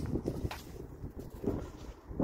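Faint, gusty wind rumbles against the microphone on a breezy seaside walk near Mijas, a low, steady buffeting with no talk over it.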